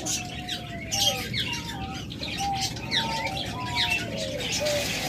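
Several birds cooing and chirping close by, repeated calls overlapping over a steady background hum.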